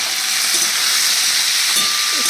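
Batbati beans and potatoes fry in a pan with a green chilli, giving a steady close hiss and sizzle throughout, with no talk.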